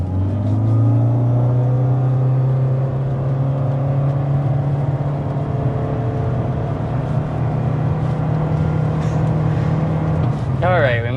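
Engine and electric drivetrain of a two-motor hybrid sedan, a Honda Civic or Toyota Corolla, accelerating from a standstill, with a steady low hum that climbs in pitch over several seconds and a voice breaking in near the end.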